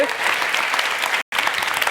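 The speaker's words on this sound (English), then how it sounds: "Give yourselves a round of applause" Dense, steady applause from a large TED talk audience, filling the room with a brief cut near the end.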